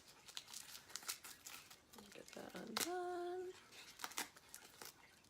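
Paper packaging crinkles and rustles in quick bursts as a piece of jewelry is unwrapped, heard close and faint, with a person speaking briefly partway through.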